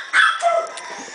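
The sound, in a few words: dogs barking in a puppy mill cage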